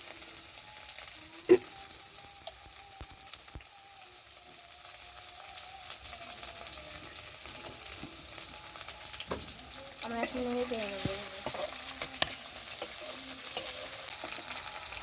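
Ingredients stirred and fried in hot oil, a continuous close sizzle with occasional spatula scrapes and clinks against the pan.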